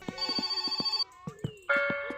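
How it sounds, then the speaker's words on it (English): A telephone rings inside the video game My Summer Car, sounding loud, close and electronic in repeated rhythmic bursts, with a short pause partway through before it rings again. "someone is trying to phone us"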